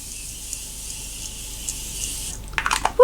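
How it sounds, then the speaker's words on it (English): A steady, close hiss of makeup setting spray runs for about two and a half seconds, then stops and gives way to a few brief clicks and rustles. "So I'm just going to like push my hair back, open it, and spray."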